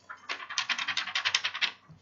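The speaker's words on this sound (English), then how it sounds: "and that's the sound of the paper" Rapid crisp rustling of coarse wood paper in a book, a quick regular run of dry crackly flutters like pages being flipped close by.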